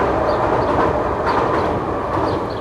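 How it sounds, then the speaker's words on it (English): A train rolls past close by outdoors, a loud continuous rumble with rhythmic clatter from the wheels on the rails. "Let this train go by real quick."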